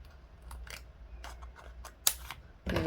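Scissors snip a small black piece of craft material for a keyring project, a few quiet, crisp cuts spaced apart, close by in a quiet room, ending with a louder rustle.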